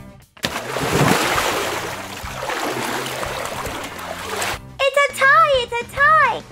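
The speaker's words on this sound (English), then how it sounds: "you guys got me all wet when you splashed" Swimmers racing in a pool send up a burst of continuous splashing and churning water for several seconds, loud and close, and then voices follow.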